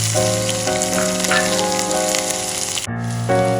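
Onions hitting hot oil already crackling with mustard seeds, cumin and garlic, a loud, steady sizzle and fry close up that briefly dips before resuming, with no talking.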